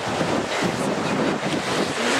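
Ocean waves and wind along a Gulf beach, a continuous surging wash with blustery gusts buffeting the microphone, loud and close, with no clear talk.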